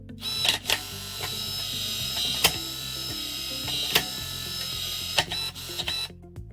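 A Danalock V3 smart lock motor runs through its calibration cycle, giving a steady close mechanical whir with small clicks and ratcheting ticks scattered throughout, then stopping just before the end.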